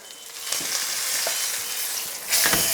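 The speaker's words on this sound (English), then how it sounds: "we're going to start basting with our garlic, our rosemary, and our thyme" Lamb sears loudly in a hot pan while it is basted with butter, garlic, rosemary and thyme, giving a continuous near hiss that swells near the end, with a few soft scrapes and no speech.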